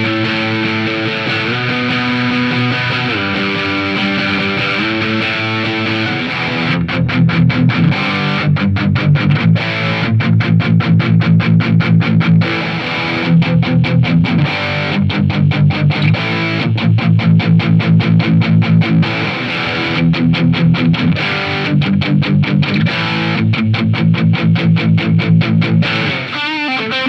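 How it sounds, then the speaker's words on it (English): A 2018 Gibson HP High-Performance Les Paul Standard electric guitar plays loud, heavily distorted chords, first sustained, then chugging palm-muted rhythmic riffs with stops. No voices are heard. "But let's go ahead and switch over to some distorted tones now."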